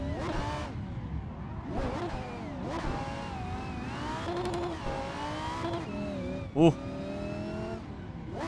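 A Lamborghini drift car in a racing video game revs hard in repeated rising and falling engine surges, loud and close, with tire squeal and a brief exclaimed voice near the end.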